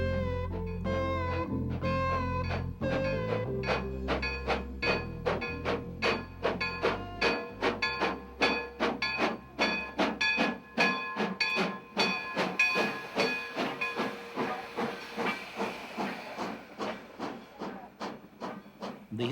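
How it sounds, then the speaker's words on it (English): The Grand Canyon Railway steam train chuffs in with rapid rhythmic puffs and hissing steam, the beats slowly spacing out as it rolls in close and loud. "The historic Grand Canyon Railway steam train arrives at the canyon just ahead of a summer thunderstorm"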